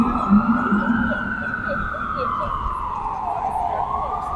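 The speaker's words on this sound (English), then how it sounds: "How many sirens can there possibly be at one time?" Emergency vehicle siren wailing on a city street, a steady rising and falling tone running throughout over traffic rumble, fairly loud and close, with a voice talking briefly near the start.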